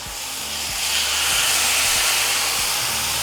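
Meat for Mexican street tacos placed on a hot comal over high heat, a loud continuous hissing sizzle that swells slightly as it settles, with faint low thumps beneath.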